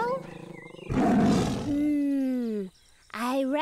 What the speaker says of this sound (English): I recognize that sound. It must be a tiger.